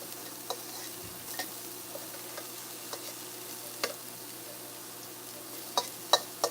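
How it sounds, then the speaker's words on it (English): Onions fry in a pan with a soft, steady sizzle under faint scattered ticks and stirring clicks, no talk. "So I'm gonna add these onions because we want to make the flavor, right? So I'm adding the onions."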